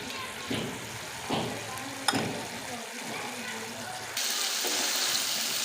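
Chicken tikka karahi masala fries in a pan while the yogurt's water cooks off: a steady sizzle with occasional sharp stirring clatters, and the frying hiss suddenly grows louder near the end.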